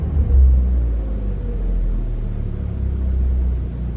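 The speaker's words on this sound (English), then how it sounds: "Parking brake is on. Idling it." A car engine idles just above 900 RPM with the parking brake set and the motor still cool, a steady low rumble holding close and alone throughout.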